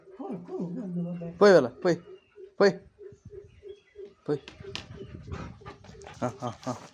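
A dog being led out for a walk whines and yips in short, uneven bursts at close range, while someone talks and calls to it over the top in a comedy film scene.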